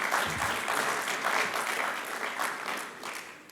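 Sustained applause from an audience at a law school keynote event, a steady, even wash of many hands clapping for several seconds with no talk.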